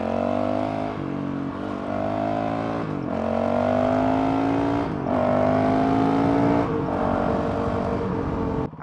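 Honda CRF 450 RL fitted with a Taipan AIM ECU in its race map with open exhaust, accelerating hard: a loud, close engine note climbing in pitch through several quick gear changes about every two seconds.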